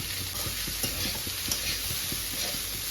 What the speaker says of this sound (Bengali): এখন সুন্দর করে এটা ভাজবো কিছুক্ষণ।